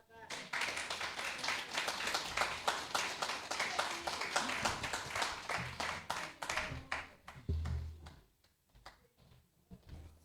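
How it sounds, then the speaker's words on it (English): Audience applause after a speech at a crime discussion forum, dense clapping that holds steady and then thins into scattered claps as it fades. "Another round of applause, please."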